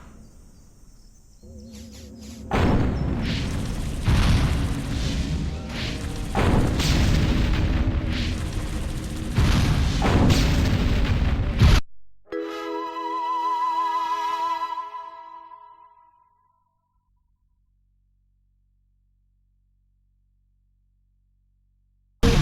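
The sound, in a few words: gunfire and explosions in video game Destroy All Humans!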